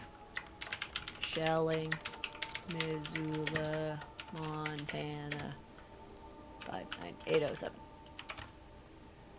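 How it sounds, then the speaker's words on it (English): Rapid clattering keystrokes on a computer keyboard come in bursts, with a voice speaking over them and pauses between runs of typing. "I was almost done typing that one."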